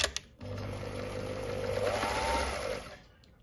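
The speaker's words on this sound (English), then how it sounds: "I'm just going to do a normal good old straight stitch. So you're sewing along" Sewing machine running a straight stitch, a steady close mechanical whir with a fast needle rhythm lasting about two and a half seconds before stopping, no talk over it.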